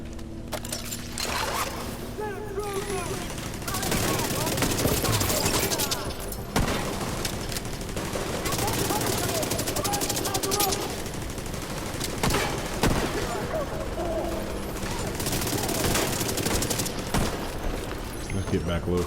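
Sustained automatic turret gunfire from The Division 2 video game crackles in dense, rapid bursts across the whole stretch, loud and close, with a voice talking over parts of it.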